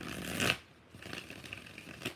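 Tarot cards shuffled by hand, one quick riffling burst followed by a short pause and softer, lighter card rustles, close and fairly quiet.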